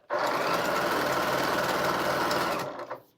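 An antique Singer sewing machine runs in one steady, buzzing whir at a constant speed for over two seconds, then slows and stops with a couple of trailing clicks.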